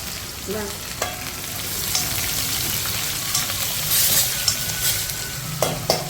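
Red chillies fry in hot oil with cumin, mustard seeds, fenugreek and peanuts, giving a continuous close crackling sizzle with occasional stirring clicks and small pops.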